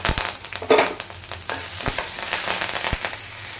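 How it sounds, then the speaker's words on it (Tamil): Hot oil crackles and sizzles steadily as mustard seeds and cumin pop, with a few sharper spattering bursts over a continuous frying hiss. "எண்ணெய் காஞ்சிருச்சு கடுகு ஒரு ஸ்பூனு அரை அரை ஸ்பூன் சீரகம் போட்டுக்கலாம்"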